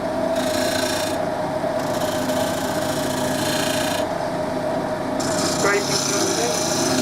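Wood being scraped on a lathe while a cup is turned, the tool riding the bevel off the back with little shaving; a steady continuous rasping drone with a persistent motor hum throughout, close and fairly loud.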